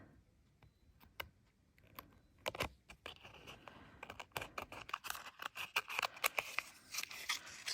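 Scissors snip through metal tape for a Christmas tag craft, a quiet run of sharp, closely spaced clicks and crisp cuts that grows denser and louder toward the end.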